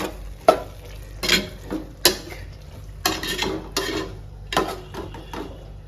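A spoon stirs grated coconut into a pot of fenugreek greens kootu, with about half a dozen scraping, clattering strokes against the pan close up, and no voice.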